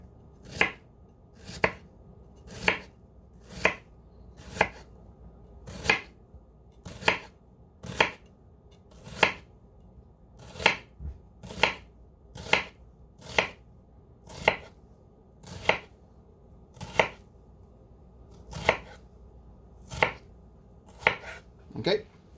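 A knife cuts an onion on a cutting board in a steady rhythm of about seventeen crisp, close thuds spaced roughly a second apart over a quiet background.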